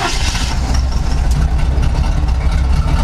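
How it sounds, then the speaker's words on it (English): A Ford F100 pickup truck idles roughly just after a cold start, its engine rumbling steadily and loudly up close with no talk over it. "So that is a cold start. I have not warmed it up yet."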